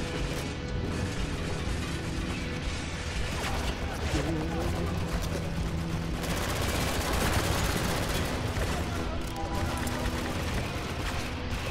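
Heavy, continuous gunfire and explosions in Spec Ops: The Line, a dense, loud barrage of automatic fire and mechanical clatter that never lets up, with players talking over it.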